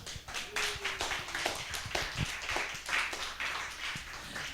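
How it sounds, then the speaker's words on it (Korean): Scattered applause from a small church congregation during a Sunday morning service, irregular handclaps of moderate loudness, close, with faint background murmur. "나올 때 박수."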